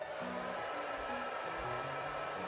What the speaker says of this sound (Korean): 드라이기로 10초간 말려줍니다.